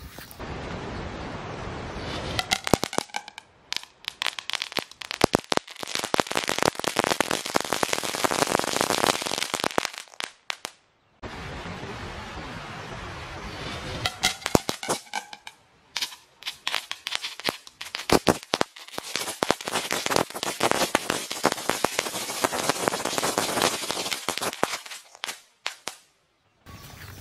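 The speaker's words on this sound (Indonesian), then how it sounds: "mercon kretekan dinyalakan di dalam botol" Long rapid strings of firecrackers bursting inside a bottle with hollow, echoing pops, two sustained crackling volleys separated by a short pause, loud and close.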